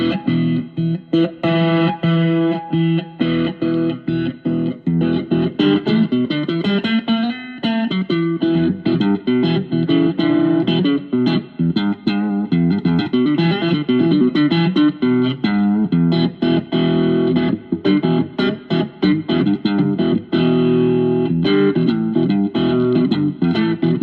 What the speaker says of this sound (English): It does seem to add more distortion.